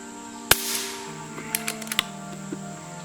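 Shots from an Umarex Origin .25 caliber PCP air rifle fired at a 50-yard target. One sharp, loud crack is followed by a few fainter, quicker clicks and pops over a steady background hum.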